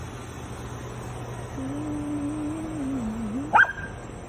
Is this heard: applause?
no